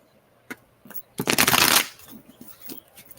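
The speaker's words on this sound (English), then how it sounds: "This one so far is not peeling so much with my strange method of shuffling." Rider-Waite tarot deck being shuffled by hand, a few light card taps followed by a dense riffling burst lasting about half a second, close and clear, then quieter taps as the cards settle.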